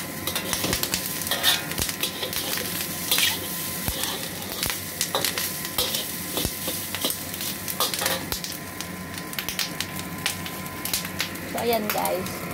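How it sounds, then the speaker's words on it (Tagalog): Pig ears frying in a pan: steady, dense sizzling and crackling runs throughout, with scattered pops and occasional utensil clicks, a fairly close, continuous hiss. "Then, fry muna natin."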